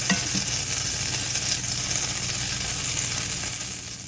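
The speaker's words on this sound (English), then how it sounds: "first, add some butter to your pan" Butter melting and sizzling in a pan, a steady close hiss with light crackle that runs unbroken and fades slightly at the end, no talking.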